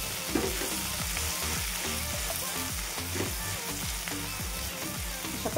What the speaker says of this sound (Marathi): छान असं भाजून घ्यायचं.